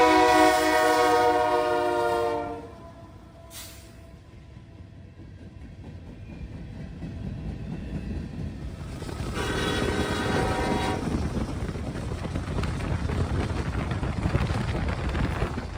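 CPKC freight locomotive 4533 leads a CSX train through a snowy afternoon, its horn blaring loud and close for about two seconds before the rumble and clatter of passing cars carries on, with a second horn note partway through.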